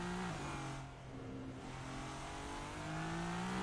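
GT3 race cars in the Simsports racing game, Super GT at Fuji Speedway, engines droning loudly and rising in pitch under throttle, with a brief dip before climbing again.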